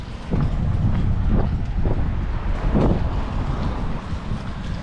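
Strong wind buffets the microphone on a sunny street walk in Taiwan, a loud continuous roar that rises and falls in gusts.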